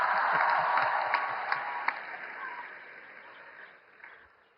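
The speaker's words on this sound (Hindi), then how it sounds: "जैसे जैसे समय आता जाए ताली बजाते जाइए।" An audience applauds at a political speech at an ashram, a loud wash of clapping that slowly fades over several seconds, with a few sharper claps standing out.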